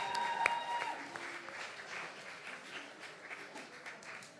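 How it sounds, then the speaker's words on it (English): An audience at an outdoor jazz event in the Bronx applauds, a soft, distant, steady patter of many hands clapping with a faint voice at the start. "Let's give her a round of applause, everybody."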